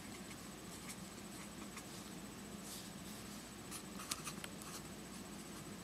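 Pen or pencil scratching steadily on a sheet of paper as four names are written down, a close, quiet rustling scrawl with brief taps and strokes and no talking.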